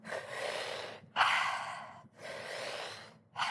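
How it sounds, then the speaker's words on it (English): Deep breathwork breathing into the belly, two quick inhales and one long exhale, heard as three loud, close breaths separated by brief pauses. "So when we breathe like that, 2 in, 1 out, so into the belly"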